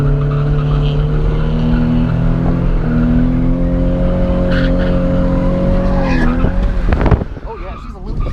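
A Nissan 350Z drifting, its engine holding a steady droning note before the tyres break into rough skidding and squeals near the end, loud and close.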